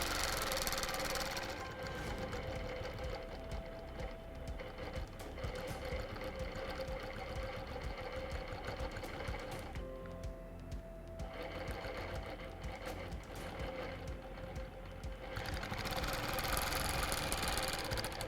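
A sewing machine stitches a quilt seam in a continuous mechanical whir with a rapid needle patter, briefly easing off midway, steady and fairly quiet.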